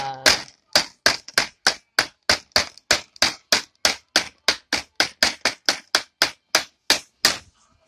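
Sharp, regular knocks from a toy hammer repeat about three times per second, loud and close, in a long steady series.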